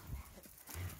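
A dog pants close by while being greeted, a few quick, faint breaths in one short burst.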